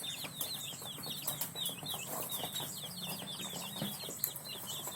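Texas breed chickens cluck and chirp on a Filipino backyard farm, in quick, repeated calls that overlap continuously over a steady outdoor background.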